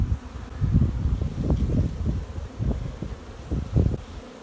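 Honey bees buzz around an open hive while frames are being worked for mating nucs, a close, steady hum with rustling bursts and low thumps from handling, no talking.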